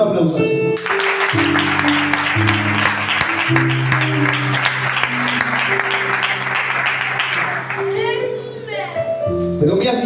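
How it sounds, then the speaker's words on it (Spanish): Church congregation applauding, a dense sustained wash of clapping that runs for several seconds, with sustained music tones and voices mixed in. "Dale un aplauso al Señor."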